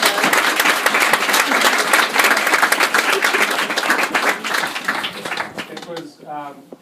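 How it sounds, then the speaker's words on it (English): Staff at a school faculty meeting applaud the 6th grade with loud, close, sustained clapping that thins and fades toward the end as a voice starts talking. "can I just have another round of applause for our 6th grade?"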